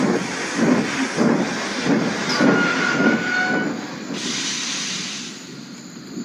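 A cartoon steam engine puffs into engine sheds at night, rhythmic chuffing bursts with hissing steam, then a steadier hiss as it slows, loud and alone.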